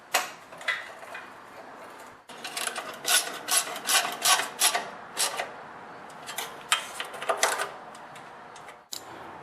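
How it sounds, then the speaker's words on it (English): Bolts threaded back into a small engine generator by hand or tool, giving scattered metallic ticks and rasping clicks in uneven bursts, close and moderately loud, with a short quiet gap partway through. "And now you want to reinstall the bolts."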